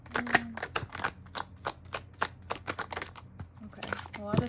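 Tarot cards being shuffled by hand: quick papery riffles and slaps in uneven bursts, close and fairly quiet, with a voice speaking briefly near the end.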